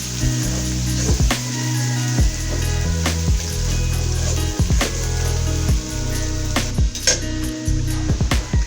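Onions frying in oil in a kadai while cooking taro leaves with shrimp, a steady close sizzle running the whole time with low rumbling tones and a few sharp clinks and taps of a utensil.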